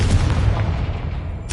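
Confringo blasting spell cast in the Hogwarts Legacy video game: a loud, sustained booming roar with heavy low rumble filling the moment, ending in a sharp crackling burst.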